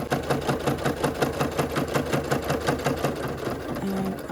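A sewing machine runs steadily, stitching a small gusseted cotton tote bag, its needle clattering in a fast even rhythm close up, with a brief pause in the stitching near the end.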